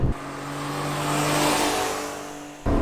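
A 1991 Honda Acty kei van cruises on a local highway, its engine droning steadily with a rising and falling whine over road and wind noise, ending in a sudden louder thump.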